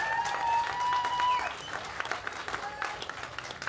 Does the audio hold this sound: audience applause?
yes